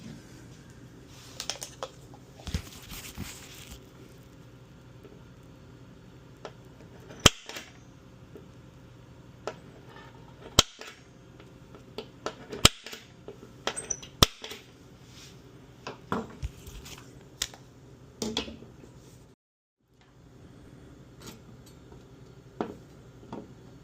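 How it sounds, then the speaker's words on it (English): A center punch strikes metal parts of a pinball kit, giving scattered sharp, loud clicks and cracks at irregular intervals with small handling clatter between hits. "grab our center punch. Again, this is going to be loud"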